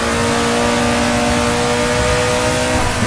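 A 1960s race car engine at full throttle in Assetto Corsa, accelerating out of a corner on the Suzuka circuit; a steady, loud, buzzing roar runs unbroken and close throughout.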